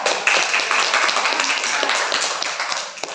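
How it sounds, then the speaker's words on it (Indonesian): Students in a classroom clap together for a classmate named Rafael, a brisk, close burst of handclaps that carries on for a few seconds and then tapers. "tepuk tangan buat Rafael"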